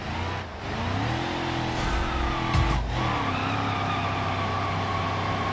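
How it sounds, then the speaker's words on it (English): An old beater car in BeamNG skids and struggles for grip, its engine droning steadily while tires squeal through a sustained slide; no voices. "As the car struggles to get any kind of grip"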